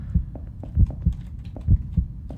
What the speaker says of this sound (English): the heartbeat scared me for a second